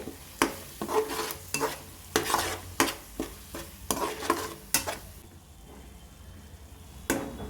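A spoon scrapes and knocks through a fish fry masala mixture in a pan, giving a rhythmic series of stirring strokes with faint sizzling between them, close up.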